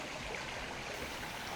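The Coran, a small Natura 2000 stream in a French valley, flowing with a soft, continuous rushing hiss, even and fairly faint with no voices.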